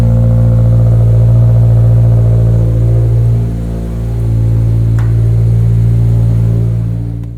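A 2022 Subaru BRZ fitted with an MRT street/race axle-back exhaust idles with a steady, deep, mild bass drone, loud and close, holding a constant low rumble with a slight dip midway, and no voices.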